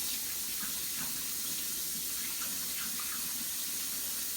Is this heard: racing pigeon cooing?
no